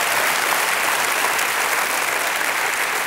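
A studio audience at the French television game show "Que le meilleur gagne plus", hosted by Nagui, applauds steadily, a dense, loud wash of clapping that holds evenly throughout with no voices over it.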